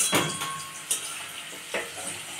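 Food frying lightly in a kadai, with a soft, quiet sizzle and a few brief clinks of a utensil against the pan.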